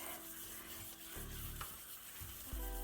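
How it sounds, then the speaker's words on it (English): Water being stirred into paint for painting wooden Christmas trees, a soft steady scraping swish with a few knocks and bumps, close and fairly quiet, no talking. "Mix it up real good so you don't have watery paint."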